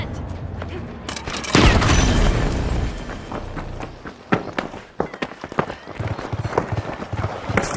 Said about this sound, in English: Tossing a frag. Frag grenade sent.